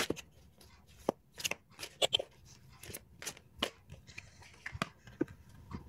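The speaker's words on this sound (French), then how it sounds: "je vais tirer une dernière carte" Oracle cards shuffled and drawn by hand: crisp, irregular snaps and rustles of card stock, close and fairly loud, with short pauses between flicks and no talking.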